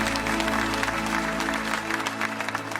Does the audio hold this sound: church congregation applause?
yes